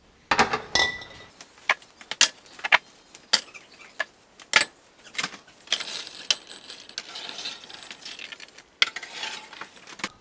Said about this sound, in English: we're gonna take our wash jars, we're gonna place them on a cookie sheet, or in our case, we've got these baking pans